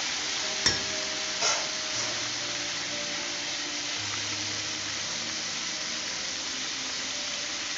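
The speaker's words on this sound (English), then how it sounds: "So leave these to fry for another 5 minutes, and then I'll take them out of the oil." Homemade copycat KFC fried chicken frying in a pot of hot oil, a steady close broadband sizzle with two brief clicks near the start and no talking.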